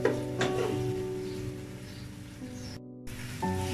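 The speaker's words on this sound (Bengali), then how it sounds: "আদা রসুনগুলো একটু ভালো করে কষিয়ে নিচ্ছি, না হয় কাঁচা গন্ধটা থেকে যাবে।" Ginger and garlic sauté in a pan for a thin vegetable khichuri, giving a soft, continuous sizzle and crackle close by, with a brief drop to near silence before it resumes.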